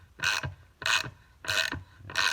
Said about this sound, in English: just start making your new threads for your Heli-Coil.